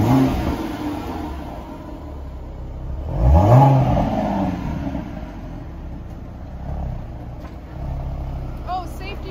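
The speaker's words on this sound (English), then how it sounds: "All right, so let's go on our test drive." A 2014 Ford Mustang convertible pulls away on a test drive, its engine note swelling in one rising acceleration and then settling into steady cruising hum, heard from inside the car.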